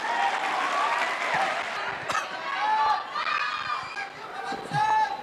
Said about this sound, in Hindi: तो यार जोर से ताली बजाओ।